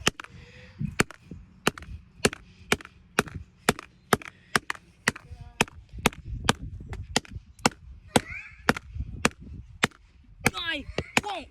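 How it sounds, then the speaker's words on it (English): A TCL Android phone is smashed with a long series of sharp, loud impact cracks coming at a steady, rapid rhythm, with faint voices and brief squeaky sounds near the end. "So we're smashing it."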